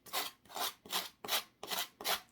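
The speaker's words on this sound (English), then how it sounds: "I'm just going to grab the sanding block" A sanding block rubs along the edge of a wooden cross being prepared for decoupage, making six even, rasping back-and-forth strokes close up, with no talking.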